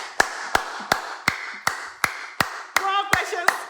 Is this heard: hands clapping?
yes